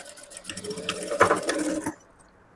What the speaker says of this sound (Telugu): ఇక్కడ నుంచి ఇలా స్టిచ్ చేసుకోవాలి